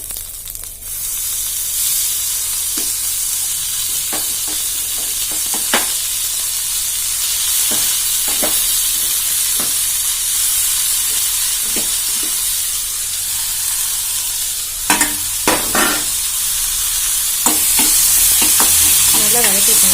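Tomatoes and green chillies sauté in a hot pan, giving a loud, continuous sizzling hiss throughout, broken by occasional scraping strokes from a stirring spoon.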